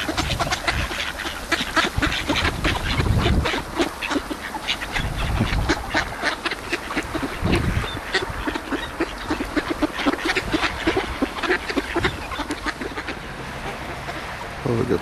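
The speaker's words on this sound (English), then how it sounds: "All eating seed." A flock of ducks quacks continuously close by, with rapid overlapping calls and occasional low talk mixed in.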